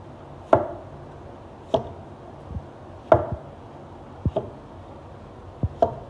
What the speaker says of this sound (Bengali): এই ধার চাপড় দিয়ে আস্তে আস্তে কাটতে হয়।